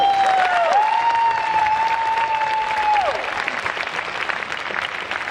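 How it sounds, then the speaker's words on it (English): Sustained applause from a crowd fills the room, steady clapping with a few scattered whistles, gradually easing off toward the end. "Round of applause for that."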